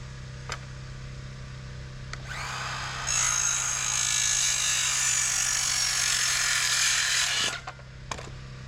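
A power drill drives a single screw into a cabin wall board, a steady whirring mechanical run of about five seconds that steps up in pitch partway through, with short taps and clicks before and after.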